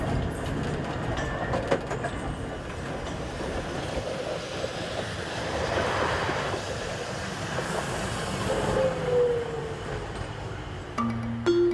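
A train pulls away towards Gyrok in Romania's Banat region, a steady rolling rumble with rhythmic wheel clatter on the rails, fairly close and heard alone without voices, ending in a brief high squeal.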